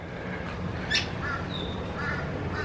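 Birds in a zoo enclosure calling with a few short harsh caws and squawks, spaced out over a steady background hum, moderately near.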